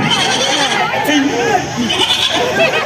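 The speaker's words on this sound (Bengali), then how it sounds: "ছাগলের ডাক" A goat bleats in wavering, repeated calls over steady background chatter, fairly loud and close, with people talking throughout.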